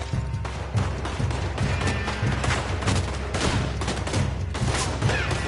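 Dense, rapid gunfire crackles through a Red Dead Redemption 2 shootout, with overlapping shots, thuds and booms coming in close, heavy bursts almost without pause.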